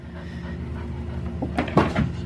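Grass buildup is knocked off the underside of a lawn mower deck, a few sharp knocks and clatters near the end over a steady low hum.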